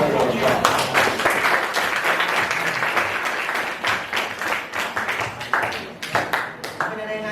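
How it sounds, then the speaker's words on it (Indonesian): Classroom audience clapping during a school supervision session, a dense ragged patter of hands that thins toward the end, with voices mixed in. "tepuk tangan"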